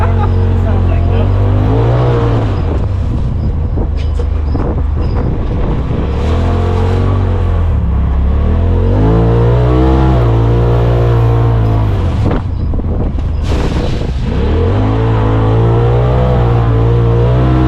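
A 2025 Polaris RZR Pro S 4 Sport UTV engine revs repeatedly through a loud exhaust, droning up and down in deep surging pulses, close and continuous with no pauses.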